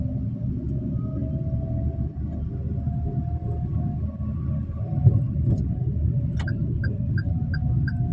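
A manual car's engine rumbles low and steady as it pulls away in second gear while the clutch is eased out, heard from inside the cabin, with a short run of soft electronic beeps near the end.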